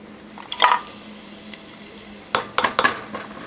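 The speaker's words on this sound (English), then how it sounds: "once you hear that sizzle" Spices dropped into hot oil in a pot for homemade beef biryani give two short bursts of sizzling with a light clatter, the second burst longer and broken into several crackling pulses.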